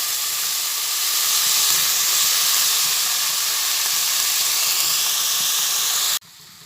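Cabbage frying in a pan of hot oil for a masala cabbage fry, a loud steady hiss and sizzle that holds evenly for about six seconds before cutting off abruptly.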